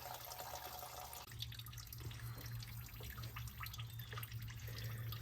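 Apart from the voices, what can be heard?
fuel draining from 1967 Mustang tank into a pan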